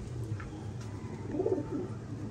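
Pigeons coo softly in a low, throaty murmur amid faint ambient background, fed on grain in winter.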